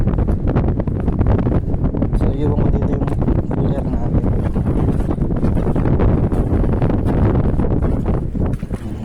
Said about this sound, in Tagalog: Pero malakas ang hangin.